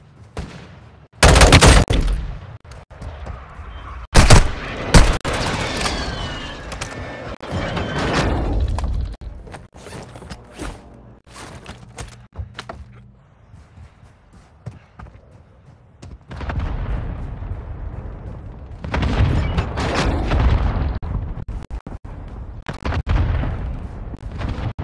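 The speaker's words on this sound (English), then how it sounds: "Friendly airstrike in the AO" Airstrike explosions and gunfire in the mobile battle royale Call of Duty Warzone Mobile: loud booming blasts and bursts of shots come in clusters, with quieter stretches of scattered fire and rumble in between.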